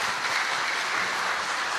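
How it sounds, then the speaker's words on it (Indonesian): Steady applause from an audience at an HKBP Godang Synod gathering, dense and continuous throughout, with no talk over it. "Terima kasih. Tepuk tangan."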